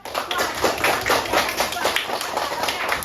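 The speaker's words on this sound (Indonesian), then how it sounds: "Oke, beri tepuk tangan buat." Students in a classroom clap together, a brisk, fairly even patter of many small hands that continues steadily throughout at moderate loudness.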